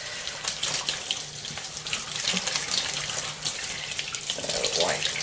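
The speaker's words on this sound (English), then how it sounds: "I always tend to splash water all up myself as well" Water runs steadily from a kitchen tap into a sink, a continuous hissing splash with small shifts as it hits dishes or hands, close and fairly loud throughout.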